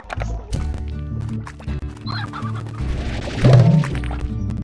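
Video game chickens in Slime Rancher cluck and squawk in short bursts amid game clatter and thuds, with a louder flurry of clucking near the end.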